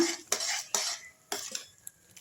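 A metal spoon scrapes and clinks against a pot of curry in a few short bursts, close by, with a quiet pause between strokes and no talking.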